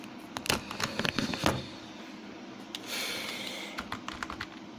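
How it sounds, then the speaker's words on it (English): Fairly faint clicking of typing on a computer keyboard indoors, with a few distinct keystrokes and short runs of taps over a steady background hiss. "I'm just gonna have to type."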